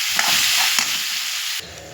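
Green chilli and salt fry in a pan while being stirred, giving a loud, steady sizzle with a few brief scraping stirs; the hiss drops slightly near the end. No one speaks.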